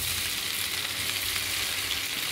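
Cauliflower florets frying in hot oil left over from frying prawns, a steady dense sizzle with a faint crackle that runs unbroken for the whole span, close up, with no voices.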